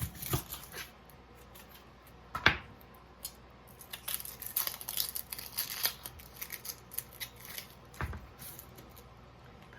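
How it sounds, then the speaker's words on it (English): Onion being diced with a knife for chicken noodle soup, a soft irregular run of close, light cutting taps and scrapes with a few sharper knocks on the board, no talking. "And then I'm going to dice an onion."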